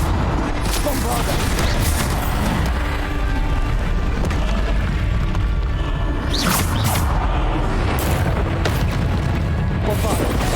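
Bombarda blasting spells explode in Hogwarts Legacy combat, with loud booms and bursts layered over a constant clatter of fighting effects.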